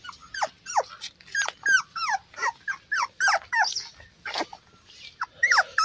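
Beagle puppies playing, a rapid run of high yelps, whimpers and little barks in close succession, near and fairly loud, with no talk over them.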